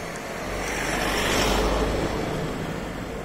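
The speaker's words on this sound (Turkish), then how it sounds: "Kamyondu, arabaydı." Trucks and cars crossing a bridge, a broad roaring rumble of traffic that swells to a peak mid-clip as a heavy vehicle passes close, then eases slightly while the steady roadway noise continues.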